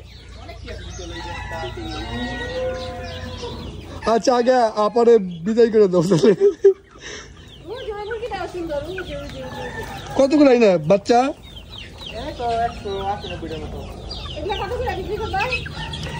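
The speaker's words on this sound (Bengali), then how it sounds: "মুরগি খুব সুন্দর দেশি আলামিনের মুরগি" Desi chickens on a poultry farm cluck and squawk up close in repeated bursts, with people talking over and between the calls.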